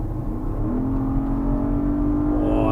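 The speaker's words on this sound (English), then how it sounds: "Sounds great, the S. The S has a new V8." A 2024 Porsche Cayenne S with its new V8 revs up, its engine note climbing in pitch and swelling steadily toward a louder, higher rev at the end, close and continuous with no voices.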